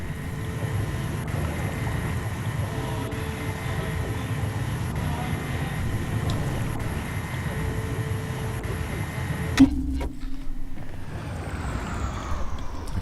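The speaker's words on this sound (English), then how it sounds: "that was the sound of a teleporter activating." A teleporter activates in the video game Warhammer 40,000 Chaos Gate, heard as a single sharp burst that briefly rises above a steady, low, rumbling ambient drone of game background sound.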